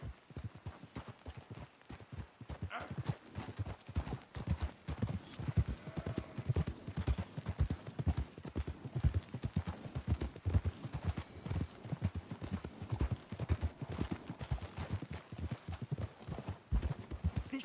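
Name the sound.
horses trotting, from a video game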